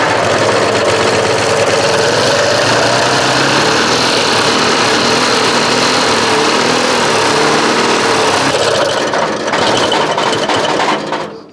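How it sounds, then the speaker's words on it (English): A Citroën AZU's small air-cooled two-cylinder engine buzzes steadily at full throttle, loud and close, running rough and high-pitched for about eleven seconds before cutting off at the end. "I'm giving it full throttle right now, otherwise it will die."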